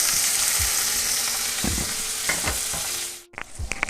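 Curry leaves, asafoetida and tomato fry in hot oil for sambhar, a loud, close, continuous sizzle with a few scraping stirs, cutting out abruptly near the end before light clatter resumes, with no talking.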